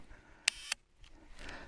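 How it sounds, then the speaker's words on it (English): A large format camera shutter is cocked with two sharp, close mechanical clicks about a quarter second apart, followed by quiet rustling. "Cock shutter, which is cocked."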